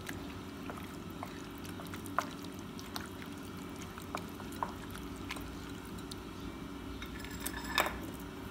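An egg is beaten in a bowl for orange chicken with a utensil, giving light, irregular clicks and taps against the bowl over a steady background hum.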